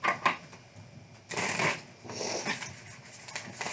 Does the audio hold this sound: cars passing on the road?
no